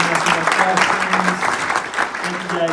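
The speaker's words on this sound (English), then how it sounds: "let's give these guys a big round of applause" Loud, close audience applause for guests after an interview, brisk dense clapping that carries on steadily, with a voice speaking over it.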